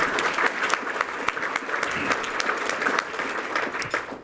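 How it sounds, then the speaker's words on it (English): Audience at a public session with a Chicago Department of Buildings commissioner breaks into steady, dense clapping that holds evenly for several seconds. "Let's give them a round of applause,"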